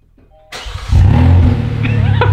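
A Kia Telluride SUV engine with no exhaust cranks and fires up, then roars loudly and raw, revving hard and close with a harsh, unmuffled growl.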